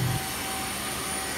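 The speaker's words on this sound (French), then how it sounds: "Non mais ça fait du bruit comme des hélices" A propeller airliner in flight drones with a steady, even engine roar, dense and constant across the short stretch, with no talking.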